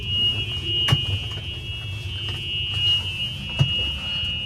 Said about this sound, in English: This one still has its in-stock Club Car buzzer.